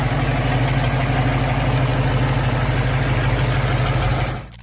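Ford Boss 429 big-block V8 engine idling, a steady loud low rumble holding evenly before cutting off abruptly near the end.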